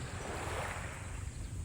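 Sea waves at Canyon Cove in Nasugbu, Batangas, a steady broad wash of surf with wind noise on the microphone, continuous and fairly close, no voices.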